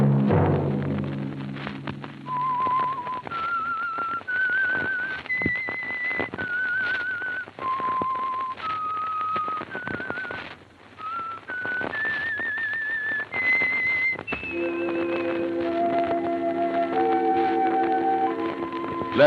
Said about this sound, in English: Let that whistle be your signal for the Signal Oil program, The Whistler, each Sunday night at this same time.